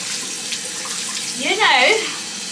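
Hot water runs from a tap in a steady close hiss, briefly swelling louder near the end.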